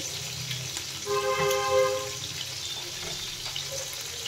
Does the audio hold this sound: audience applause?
no